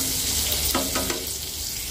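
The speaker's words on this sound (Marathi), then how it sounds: "आता बटर वितळलंय" Butter melting and sizzling in a pan while making masala corn chaat: a steady close sizzle with a few brief stirring scrapes partway through.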